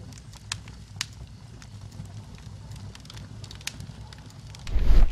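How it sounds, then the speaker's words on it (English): A dying fireplace fire in a video game crackles and hisses softly and steadily, with scattered sharp pops and a low rumble swelling near the end. "A fireplace. This fire is dying out."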